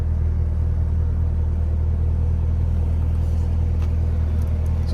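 A supercharged V8 in a 2021 Chevy Camaro ZL1 1LE with a manual gearbox holds a deep, steady rumble near at hand, loud and constant with no speech over it.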